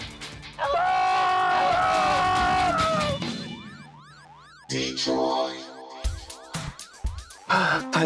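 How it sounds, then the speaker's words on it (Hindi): A household alarm siren blares in a harsh rising-and-falling electronic wail, loud and close, cutting out and restarting in bursts amid clattering and scattered voices. "Nothing is working and siren is annoying."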